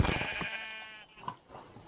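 A Minecraft sheep bleats in a bright, slightly wavering tone, followed by a few quieter clicks and soft sounds.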